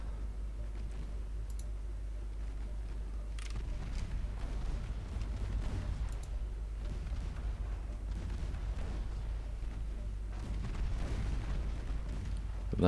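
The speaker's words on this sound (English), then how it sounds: "they are sure putting out a lot of fire. It's very small caliber fire" Small caliber naval guns firing in the Ultimate Admiral Dreadnoughts warship game, a continuous rumbling barrage with scattered distant booms and pops that grow slightly louder toward the end.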